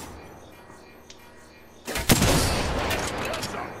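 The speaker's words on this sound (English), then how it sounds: "Getting shot from the down there as well." Gunfire in Apex Legends erupts suddenly after a quiet stretch, a loud burst of rapid shots and impacts that keeps rattling to the end.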